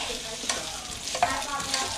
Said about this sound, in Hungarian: közepes hőfok, átforgatjuk a forró zsiradékba